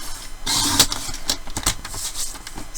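A paper trimmer blade slices card stock to width for a handmade card front, giving a brief, close scraping swipe followed by a few lighter clicks and rustles.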